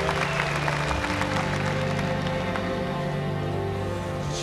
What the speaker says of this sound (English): Let's bring them on a good round of applause.